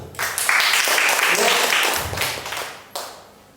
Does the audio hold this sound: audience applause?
yes